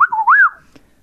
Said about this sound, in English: Listen to the whistling sine wave speech